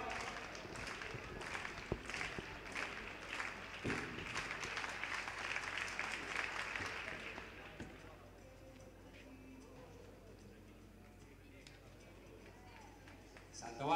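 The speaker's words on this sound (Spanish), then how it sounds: "Nos pide palmas Pablo Sá" Rhythmic clapping from spectators at an indoor Galician athletics championship long jump, a steady pulse of hand claps for about eight seconds that then stops, leaving quiet hall ambience.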